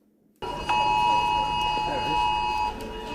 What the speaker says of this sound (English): Play has been paused just for the emergency test alert.